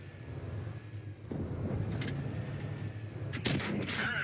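Tank cannon fire in World of Tanks Blitz, two booming shots a couple of seconds apart over a low engine rumble, the second louder and followed by rattling impact sounds.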